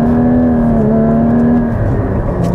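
A Porsche Cayman engine pulls hard in second gear after a light brake. A steady, loud mechanical drone holds a continuous rising-and-falling engine tone throughout, close and unbroken, with no talk.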